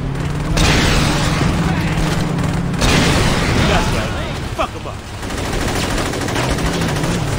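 Rocket launcher blasts and gunfire in Saints Row during a driving shootout, heavy continuous booming and rattling fire that dominates the first half, then thins out to scattered shots under game ambience.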